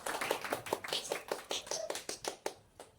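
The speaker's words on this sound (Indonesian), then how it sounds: "Bisa tepuk tangan lagi untuk Mas Andi teman-teman semuanya." A small audience claps for Mas Andi at a comedy show, a string of distinct, fairly rhythmic hand claps, close and moderately loud, spread evenly across a few seconds.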